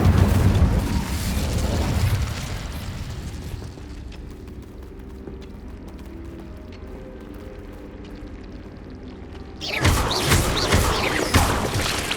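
A fire spell cast in Hogwarts Legacy, heard as a loud burst of rumbling, crackling flame at the start that fades into quieter ambient tones, then a second fiery blast near the end.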